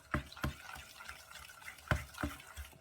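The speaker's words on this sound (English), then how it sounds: "Okay, stir that all in." A spoon stirs a rocky road slice mixture with beaten egg in a bowl, giving a few faint, soft clicks and scrapes at irregular intervals against a quiet background.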